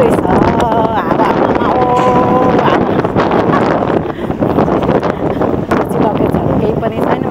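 Strong wind buffets the microphone outdoors at Biratnagar airport just after landing from Kathmandu, giving loud, rumbling gusts that dip briefly midway, with voices heard alongside.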